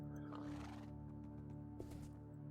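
A horse neighs in the Minecraft video game, a fairly loud, drawn-out whinny with a brief accent near the end, heard alone over a steady game hum.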